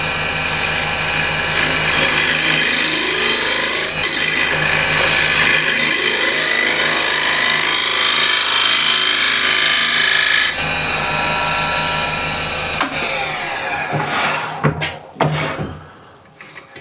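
A card scraper with a burnished burr scrapes across a wooden surface in long, loud, steady rasping strokes, continuous for several seconds before breaking into shorter, sharper scrapes and handling knocks.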